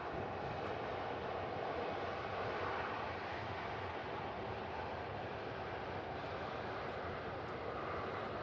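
Virgin A330 airliner engines roar steadily at an airport, a broad, constant jet rumble filling the whole stretch without any voices.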